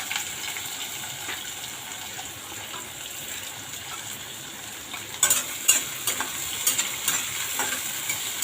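Onion with green chillies and curry leaves fries in hot oil, a steady close hiss with a burst of sharper crackles and spatters near the end.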